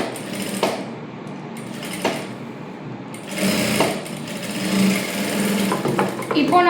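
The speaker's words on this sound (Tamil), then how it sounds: "சுற்றி தையல் போட்டுட்டோம்." A sewing machine runs in bursts while stitching around the edge of a silk pattu paavaadai skirt, with a rapid mechanical whir close by and short pauses between runs; someone talks over it.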